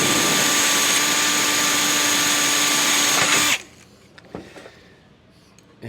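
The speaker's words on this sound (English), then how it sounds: "First, we're going to drill some holes." A power drill bores holes in sheet metal for rivets, a loud steady whine that stops abruptly, followed by a few faint clicks and handling noises.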